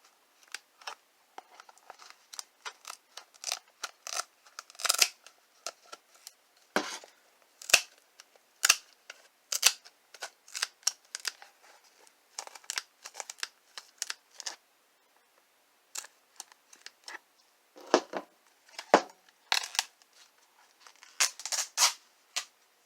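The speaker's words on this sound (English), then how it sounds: "I find a good pair of tin snips will cut just about anything" Tin snips cut apart a shoe up close in a quiet room, producing a long irregular series of sharp crunching snips and clacks, sometimes rapid and sometimes spaced out with brief pauses.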